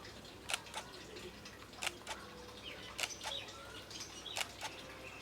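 Sharp mechanical shutter clicks from a Fujifilm X-A5 mirrorless camera repeat in pairs at a steady pace, close and crisp over a quiet hiss.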